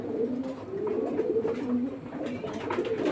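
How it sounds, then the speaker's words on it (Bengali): Sapchila pigeons giving soft, repeated rolling coos, close by and fairly quiet, in overlapping phrases with faint background rustle and no talking. "আরেক জোড়া সাপচিলা কবুতর দেখাচ্ছি"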